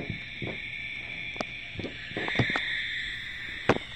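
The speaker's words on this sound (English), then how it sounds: "Large barn owl." A recorded barn owl call plays from the sound chip of a Wild Republic Audubon plush toy, a steady hissing screech held for several seconds at close range, with faint handling clicks and no talking.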